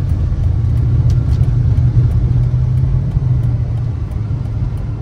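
Dodge Charger with a 5.7 engine that stalls after fueling, heard from inside while driving: a steady low engine rumble with slight shuddering, loud and close, with no talking.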